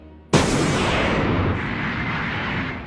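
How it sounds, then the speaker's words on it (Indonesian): A cannon fires and explodes in an episode of the One Piece anime, a sudden loud blast followed by a long roaring rumble of debris and echo that fades slowly over a few seconds. "Zoro akhirnya membalikan meriam Bagi Dama ke arah Bagi dan krunya, lalu menyalakan sumbu meriam tersebut."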